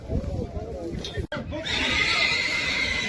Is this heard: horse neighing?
yes